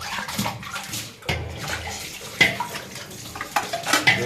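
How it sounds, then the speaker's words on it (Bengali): Washing a stone spice grinder (shil-pata) under running water in a kitchen, with steady splashing and pouring broken by clinks and scrapes of stone and utensils, close and fairly loud, no talk. "এটা বাটাটা একটু ধুয়ে রাখতে হবে"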